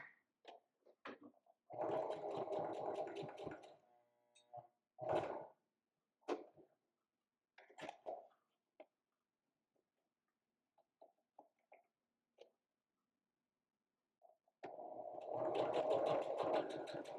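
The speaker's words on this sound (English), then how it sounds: "I'm going to top stitch around all 4 sides." A sewing machine top stitches around all four sides of a piece of fabric in short, close bursts of whirring stitching, with pauses and small clicks in between and a longer run at the end.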